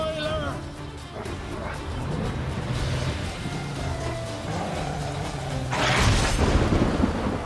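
In The Witcher 3, a thunderstorm rolls in with steady rain hiss and low rumbling, building to a loud crack of thunder near the end, while people talk over it.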